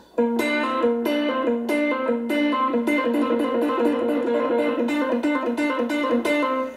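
A distorted electric guitar plays a fast, repeating legato lick, notes flowing smoothly into one another in a steady rhythmic pattern, loud and close.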